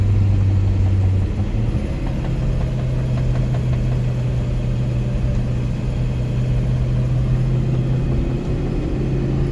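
A Ford pickup truck engine pulling a new trailer, a steady loud mid-pitched drone with a low humming tone that shifts slightly early on, then holds constant without pause.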